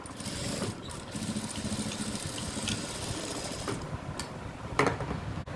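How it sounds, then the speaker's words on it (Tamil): A sewing machine stitches piping around a blouse neck, giving a continuous, close mechanical whirr and clatter with a few sharper ticks and no talking. "மீதி இருக்கிற துணியை அப்படியே மடக்கி வச்சு அதே ஷேப்புக்கு அப்படியே தையல் போட்டுருவோம்"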